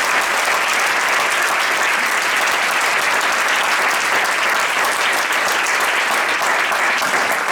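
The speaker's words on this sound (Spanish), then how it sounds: "Fuerte aplauso" A concert audience at the University of León breaks into loud, dense applause that holds steady and close throughout, with no talking on top.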